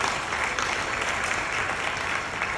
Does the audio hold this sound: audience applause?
yes